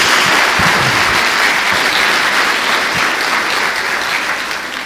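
A church congregation applauds at a Spirit baptism service, loud continuous clapping with a few sharper individual claps, holding steady before easing slightly at the end.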